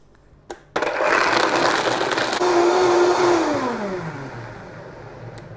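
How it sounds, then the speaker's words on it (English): A blender whirs up cashews with water, starting after a couple of clicks and running as a loud, steady roar with a rising whine that slides down as the motor settles. "So cashews in a blender with the water. So now we want to whisk this up."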